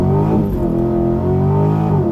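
A C8 Corvette fitted with a ported throttle body pulls hard under acceleration, its loud, steady engine drone rising in pitch and briefly dipping around a gear change before climbing again.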